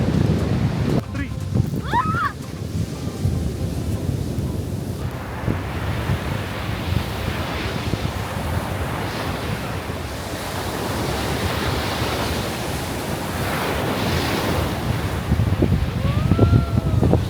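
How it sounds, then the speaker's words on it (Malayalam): Surf rolls onto a wide beach in Nha Trang, Vietnam, as a continuous broad wash of breaking waves with gusty wind buffeting the microphone; voices can be heard talking over the noise. "ഇത് നോക്ക്, ഭയങ്കര നല്ല ബീച്ചാണ്."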